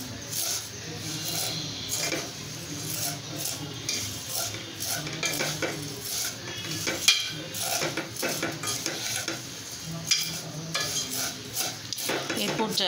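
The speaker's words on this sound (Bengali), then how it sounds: "সেমাইটা মৃদু আছে, আমি আস্তে আস্তে ভেজে নিচ্ছি।" Vermicelli fries slowly in a pan while a utensil stirs and scrapes against the metal, a soft continuous sizzle under repeated clinks, with a voice talking at times.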